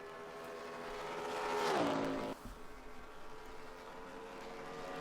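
Race car engine in a racing video game on a qualifying hot lap, a loud, steady high-pitched whine that climbs in pitch, then drops sharply at a gear shift and settles into a lower drone, with no talk.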